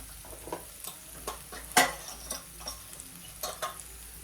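Potato and spinach sabji sautés in oil with a soft, steady sizzle, broken by light clinks and scrapes of a spoon stirring the pan and one sharper knock midway.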